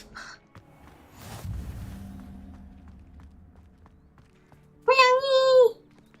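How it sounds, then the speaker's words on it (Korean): A cat in Hogwarts Legacy lets out a single clear meow near the end, preceded by quiet game ambience and a soft thud. "고양이."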